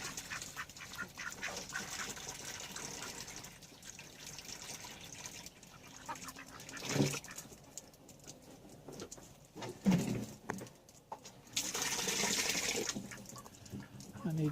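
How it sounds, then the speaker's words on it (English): Ducks on an icy homestead quack in a few scattered bursts over a quiet outdoor background, with short louder calls near the middle and a longer rush of noise later. "The ducks seem to be happy."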